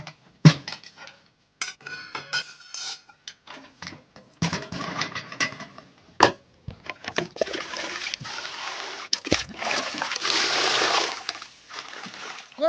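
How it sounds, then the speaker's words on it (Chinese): Water pours and splashes into a cooking pot outdoors on the grassland, with scattered clanks and splashes at first, then a longer steady pour toward the end; a dog may be heard too. "就放锅倒水，快煮吧"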